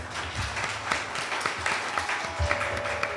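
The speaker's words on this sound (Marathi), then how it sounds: "त्यांच्यासाठी एकदा जोरदार टाळ्या" Audience applause in a concert hall for a tabla player at a classical music performance, steady dense clapping from a crowd, moderately loud and slightly distant, with a faint voice underneath.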